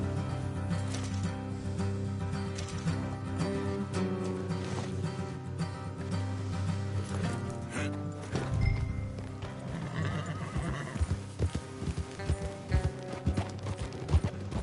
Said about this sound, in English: Get back on the horse and let's go.